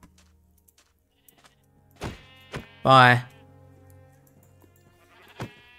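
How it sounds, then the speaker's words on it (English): A single Minecraft sheep bleat, loud and close with a wavering tone, set among a few sparse thumps and clicks, and a brief spoken word. "Sheep!"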